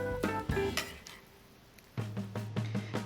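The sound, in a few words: tossing fried sweet potatoes in syrup in a pan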